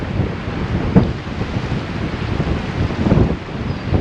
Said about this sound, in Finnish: Nyt tuulee pikkasen liikaa.